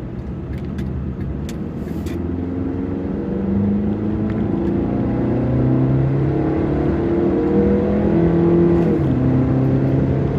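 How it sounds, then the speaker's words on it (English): A 1995 Honda Accord 25th Anniversary accelerates hard on a quiet interstate, its engine note rising steadily through the gears with a climbing drone and a brief shift dip, heard from inside the car. "to show off the horsepower of this car"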